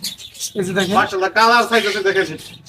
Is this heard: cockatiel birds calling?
yes